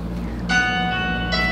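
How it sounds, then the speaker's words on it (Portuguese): A small bell is struck once in a family music quiz game, ringing out with a bright, sustained metallic tone over low background hum, then struck again near the end. "Tem que bater no sininho."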